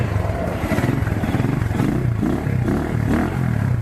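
Rusi Classic 250 motorcycle engine fitted with a silencer, idling and revving nearby with a steady, deep, full throb and slight rhythmic swells, loud and close with no talking.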